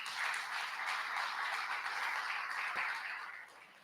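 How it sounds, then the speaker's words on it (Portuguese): A church congregation applauding together: a continuous wash of many hands clapping, slightly distant, holding steady and then tapering off near the end. "Eu quero que os irmãos aplaudem."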